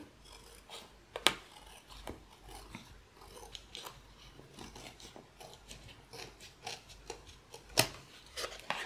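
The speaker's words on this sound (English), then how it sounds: "I'm going to trim this here." Scissors trimming packaging paper for a junk journal, with quiet irregular snips and rustles and two sharper cuts standing out, close and without speech.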